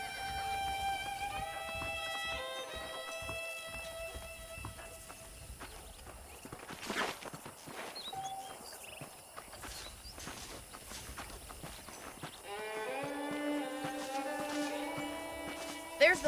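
Horses clip-clop at a walk in the Western video game Red Dead Redemption, a steady hoof rhythm heard under the voices of characters talking.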